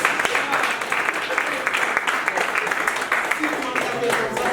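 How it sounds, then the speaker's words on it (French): Steady applause from a crowd fills the clip, dense and continuous, with voices cheering mixed in. "Applaudissez pour le grand Yves"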